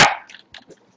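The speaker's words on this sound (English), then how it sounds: "There's a dog." A single sharp dog bark opens, followed by a few faint, short yips and whimpers in the quiet.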